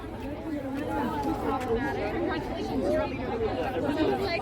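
Crowd chatter on a Toronto street at night, many overlapping voices in a steady babble around the listener, moderately loud and continuous with no single speaker standing out.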